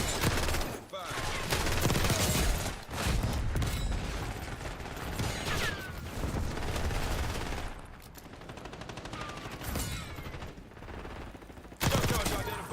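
Shotgun blasts in a first-person shooter video game, heavy repeated booms mixed with mechanical clatter and dense battle noise throughout, with voices talking over the action.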